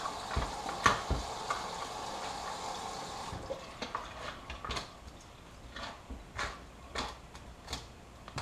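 Sour cream being folded into a green sauce mixture, soft wet squelching and scraping strokes repeating at an unhurried pace, close and fairly quiet, with a brief hiss at the start.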